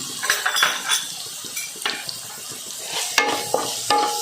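A spoon stirs and scrapes sabudana khichadi, tapioca pearls with crushed chili, salt and sugar, in a sizzling pan, with irregular metallic clinks and scraping strokes over a soft frying hiss, close up and without talking.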